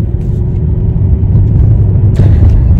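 Inside a car driving on a cold winter day, a loud steady low rumble of engine and road noise with no talk.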